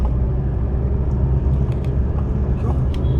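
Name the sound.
Delhi road traffic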